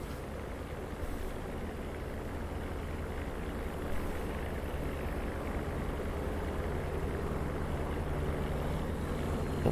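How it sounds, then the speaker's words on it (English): Turbocharged P-47 radial engine in the DCS flight simulator, a continuous rumbling drone with faint steady tones layered on top, holding a constant level throughout with no talk. "Oh, there's the turbocharger."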